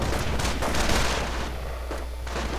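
Anti-tank guns fire continuously in a WWII strategy video game battle against Panzer IV tanks. The gunfire forms a dense, loud barrage of overlapping booms and crackles with no break.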